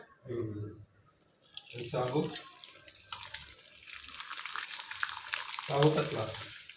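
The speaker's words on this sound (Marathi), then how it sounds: "पापड आहेत ना बारीक तळायचे" Thin sabudana (sago) papad frying in hot oil, a steady broadband sizzle running through most of the clip with bursts of a woman's speech over it near the start and end.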